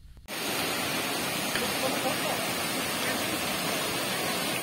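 A waterfall in Morocco's Middle Atlas gives a loud, steady broadband roar of rushing water that starts abruptly and fills the scene evenly without pause, heard close by.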